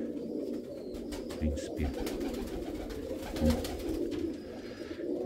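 Pigeons coo nearby in a loft, soft repeated throaty calls with a few wing rustles, while someone speaks briefly over them.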